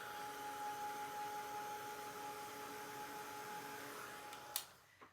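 A handheld heat tool blows steadily over a painted art journal page, a faint, even whirring hum that cuts off abruptly near the end with a small click.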